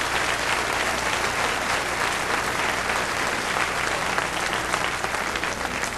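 A church congregation bursts into sustained, dense applause, loud and close, steady for several seconds with no break.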